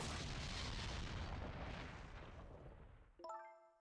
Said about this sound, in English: What in the world? Explosion?